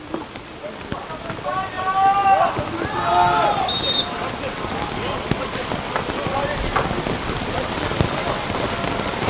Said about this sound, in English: The rain absolutely sheeting down.